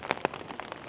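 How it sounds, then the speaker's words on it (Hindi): Rain pattering on a surface at Topkapi Palace in Istanbul, a steady wash of drops with a few sharper taps standing out, fairly close and moderately loud. "और आज यहाँ इस्तांबुल में बारिश हो रही है"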